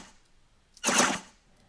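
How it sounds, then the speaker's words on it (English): Shot sound effect from a spaceship in a homemade shooter video game, a single short sharp burst, fairly quiet, alone with no talk. "We have our shot sound effect."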